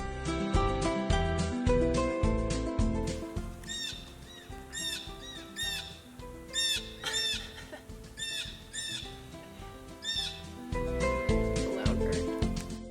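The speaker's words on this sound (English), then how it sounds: "I found out that bird is actually a blue jay" A blue jay gives repeated squawking calls outdoors, loud and close, over a steady musical background with rhythmic low beats.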